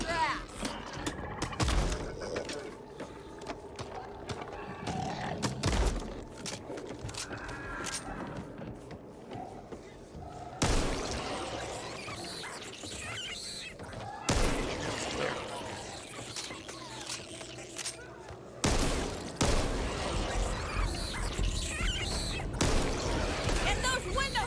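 Gunfire and chaotic combat in the co-op zombie shooter Back 4 Blood: repeated loud bursts and rattling shots throughout, heavily mixed with someone talking and game effects.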